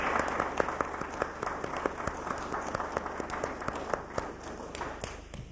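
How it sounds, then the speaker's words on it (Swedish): Audience applause fills the room at a municipal culture prize ceremony in Larsmo honoring the year 2000 laureate, a dense, steady patter of many hands clapping throughout, with a few sharper individual claps standing out. "Ja, jag tycker vi applåderar."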